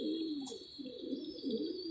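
A pigeon coos softly and repeatedly in a brief, faint series of low warbling calls with no talking.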